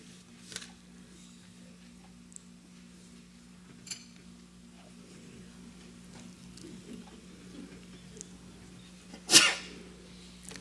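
A single sharp sneeze rings out in a quiet church hall during a Sunday service, set against a steady hum and a few faint rustles.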